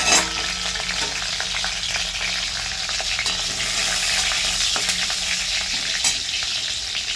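Green chillies frying in hot oil in a wok, following panch phoron, giving a loud, steady sizzle with frequent sharp crackles and spits close up, no speech.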